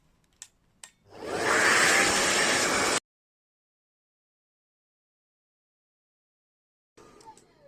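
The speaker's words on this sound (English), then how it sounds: "we are going to heat it with a heat gun or the blow dry" A heat gun or hair dryer blows at close range while heating a Samsung S7 phone screen for removal, a loud steady whooshing rush that runs for about two seconds, then cuts off abruptly into silence.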